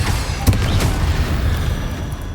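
Spell blasts from Confringo and Incendio cast in Hogwarts Legacy, heard as a sharp booming burst with crackling and a low rumbling roar that continues steadily beneath.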